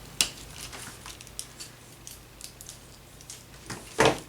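Scissors cut paper for a junk journal folio, with a sharp snip at the start, faint rustling and handling in between, and a louder crisp cut near the end in a quiet room.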